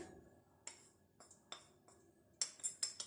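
Egg, flour and cornflour stirred together in a bowl to make a coating for fried chicken, heard as soft, close clinks and taps of a spoon against the bowl, spaced irregularly then quicker near the end.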